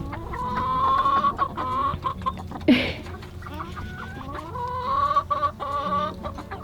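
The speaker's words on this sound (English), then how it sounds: "He's got the weirdest crow." A young backyard rooster in a small chicken flock gives an odd, wavering crow over steady clucking and chatter from nearby hens, with a brief sharp squawk midway and more warbling crow-like calls toward the end.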